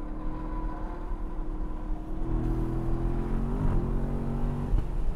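A Chevrolet Corvette C7 with magnetic ride suspension is driven hard around a racetrack. Its engine drones loudly and steadily, the pitch climbing and shifting as it pulls through a corner, with no talking.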